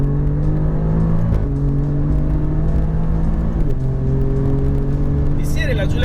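A 600 hp Alfa Romeo Giulia Quadrifoglio tuned by Romeo Ferraris drives on a track. Its engine holds a loud, steady drone from inside, with drops in pitch at gear changes and a rising whine near the end.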